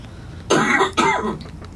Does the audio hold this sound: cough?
yes